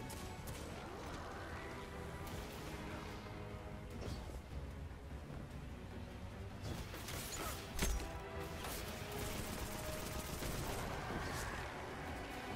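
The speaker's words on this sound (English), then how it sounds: "stability on this auto rifle is really good" Auto rifle in Destiny 2 firing in a busy combat scene, rapid gunfire mixed with crashes and mechanical clatter, moderately faint and continuous throughout.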